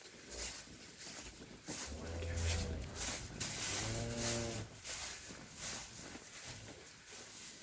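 Cattle on a farm at calving time moo in two long, loud lowing calls close by, with wind buffeting and rustling throughout.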